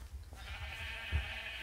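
Sheep bleating in a farm-themed minigame video game, a soft, muffled bleat rising briefly near the end over a steady low hum and background game noise.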